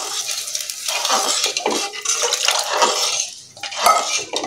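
Water poured into a cooking pot while making kadhi, a steady splashing pour with metal clinks from the pot, close and fairly loud with no talking.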